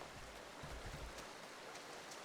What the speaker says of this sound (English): It's raining today.